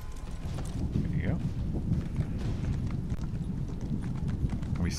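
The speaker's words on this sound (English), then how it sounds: "We summon a horse out of nothing." A summoned horse in the video game Elder Scrolls Online gallops with rapid, rhythmic hoofbeats over a low, rumbling game soundscape.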